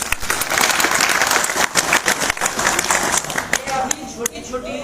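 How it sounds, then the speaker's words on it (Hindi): A group at a maths-games teacher training session in Rewa claps for itself, loud and close, with irregular bursts of hand claps that thin out toward the end, mixed with brief voices and laughter. "अब एक बार जरा सब कोई अपने लिए ताली बजा लो"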